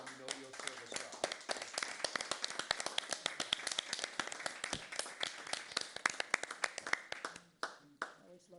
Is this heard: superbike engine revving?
no